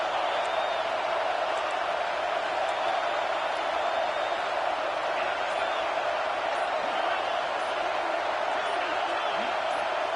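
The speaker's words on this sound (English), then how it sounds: "This dog crowd is off the leash, and they are coming after them, bringing noise on third down." Loud, steady roar of a large home stadium crowd at a football game on third down, a continuous wall of noise with no breaks, sustained throughout.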